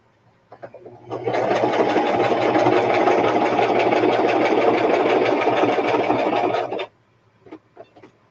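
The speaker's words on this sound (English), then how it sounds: "I'm just doing a straight stitch." A sewing machine running a straight stitch for a pocket, a steady mid-loud mechanical whir that lasts about six seconds. Quiet handling noises come just before it starts and again after it stops.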